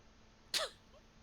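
A single sharp sneeze during a tabletop role-playing session, fairly close and brief, rising out of a quiet room with a faint trailing sound after it.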